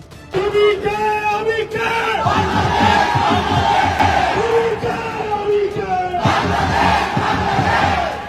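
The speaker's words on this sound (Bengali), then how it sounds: "পাকিস্তানের শিক্ষার্থীরা আমিকে তুমিকে বাংলাদেশ বলে স্লোগান দিচ্ছে" A large crowd of Pakistani students at a student protest, chanting rhythmic slogans in unison, loud and close. The shouted call-and-response keeps going through the whole stretch, with brief swells where new chants begin.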